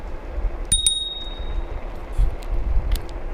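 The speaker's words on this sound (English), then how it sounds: "Got a bell." The handlebar bell on a GoTrax G4 electric scooter gives a quick pair of bright dings near the start, then only low background rumble remains.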